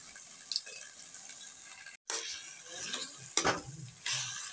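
Bottle gourd and poppy seed curry being stirred in a pan, with scraping spoon strokes and a soft sizzle, a brief silent gap midway, then louder stirring scrapes near the end.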